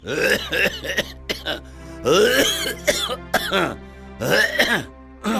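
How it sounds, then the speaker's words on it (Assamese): A man in an Assamese film scene coughs and clears his throat in a rough, repeated fit, with loud bursts close to the listener and short pauses between them. "দেউতা ইমান কাহ হৈছে"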